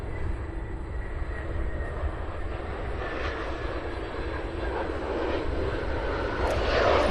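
An airliner departing Cincinnati CVG makes a steady, moderately loud jet engine roar that swells slightly toward the end and carries on with no voices.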